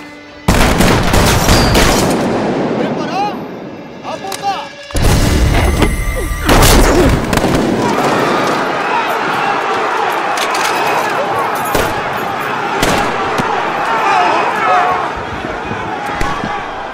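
An honor guard rifle volley in a Batman film scene, a loud booming shot followed by a second heavy blast, then echoing reverberation and crowd commotion as a man calls out commands.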